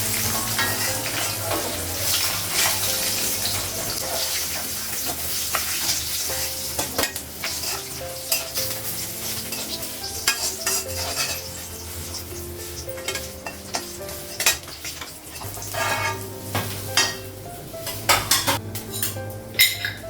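Fish frying in oil in a pan, a continuous loud sizzle and crackle heard up close, broken by scraping and clinks of a utensil against the pan.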